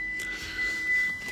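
A Mitsubishi Lancer's dashboard sounds a thin, steady electronic beep after the ignition is switched on, a single sustained tone close by over a faint background hum.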